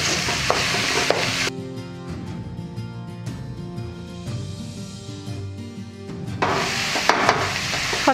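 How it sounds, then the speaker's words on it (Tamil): Fresh coriander sautés in a pan for a Tamil fish curry, with crackling sizzle and stirring scrapes loud at the start, quieter through the middle, and returning near the end. "கொத்தமல்லி நல்லா வதங்கிடுச்சு."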